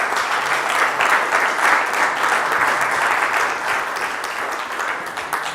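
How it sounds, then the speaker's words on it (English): Steady, dense audience applause fills a Web3 event venue for the event's hosts, holding at an even level for several seconds with no break and no clear voices above it. "So big round of applause to Data Fund"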